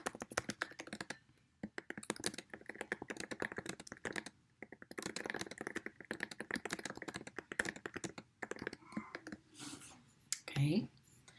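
Computer keyboard typing a short note into an app on screen, a steady run of light, rapid clicking keys with brief pauses, close and fairly quiet, with soft speech nearby.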